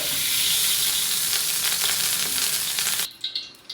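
Hot cooking oil sizzling in a pan for squid adobo, a close, steady crackling hiss that drops off sharply near the end into a few scattered pops.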